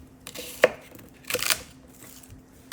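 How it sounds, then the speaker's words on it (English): Ginger chopped with a knife on a board for a fish stock, a few sharp, irregular knife strikes close by, one brief flurry of cuts in the middle, otherwise quiet. "Chop these as well, because this will be getting blended up into the bowl with the garlic."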